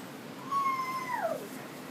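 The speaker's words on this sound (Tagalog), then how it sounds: "Where's the cat? Meow! Here is the cat." A cat gives a single clear, drawn-out meow with a falling tail at the end, close and fairly faint over quiet room noise.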